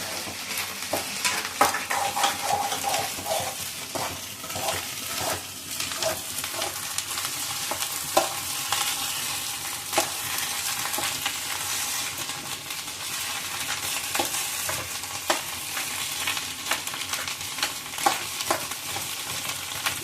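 Fish curry cooking in a pan, with a continuous low sizzle of frying broken by frequent scraping and clinking of a spatula stirring against the metal, moderately close and steady for the whole stretch.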